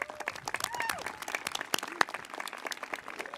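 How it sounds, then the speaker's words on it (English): Graduation ceremony crowd applauding the high school concert band, a dense steady round of clapping with whoops and cheers mixed in, moderately loud throughout with a sharp peak near the middle. "give a round of applause to our North Hunterdon Concert Band"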